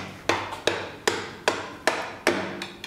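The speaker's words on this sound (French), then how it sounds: "Vas-y, ouais, un coup de marteau." Hammer blows drive out an axle on an MBK Rocket scooter: six sharp metallic strikes land close by at a steady pace of about two per second, each ringing briefly before the next.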